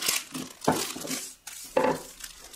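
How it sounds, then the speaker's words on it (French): Wooden rolling pin pressing and flattening a block of butter for laminated brioche dough, heard as a few firm, close rolling thuds and crinkling paper or film sounds in irregular bursts. "avec le rouleau à pâtisserie, donc je viens faire prendre la dimension à notre beurre"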